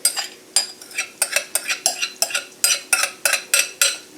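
A spoon stirring sauce in a pan on a stovetop set to high heat while cooking sticky tofu, giving a steady series of scraping strokes about every third of a second, close and fairly loud, with no voices.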